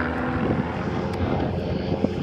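A Catalina flying boat's two propeller engines drone together at an air show, a steady, fairly loud rumbling hum with a faint tonal edge throughout.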